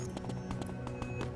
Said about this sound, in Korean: 발자국 소리.